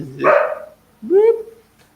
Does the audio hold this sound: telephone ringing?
no